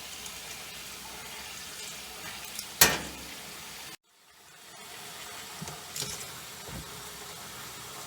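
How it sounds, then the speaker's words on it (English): Water runs from a tap on a sheep farm to soak yarn, a steady faint hiss and splash that continues over several seconds and is briefly interrupted, with a couple of clunks and no talk. "So I'll let the water run"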